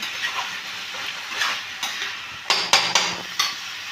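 Banana flower and prawns stirred and fried in a pan, with scattered scraping and metallic clinks of a utensil against the pan and a few sharper knocks toward the end, over a steady sizzle with no talking.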